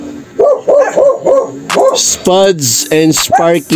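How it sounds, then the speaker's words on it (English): Several dogs bark in quick, repeated bursts close to the microphone, with yips mixed in, while a person speaks over them. "making their presence known by barking on the background"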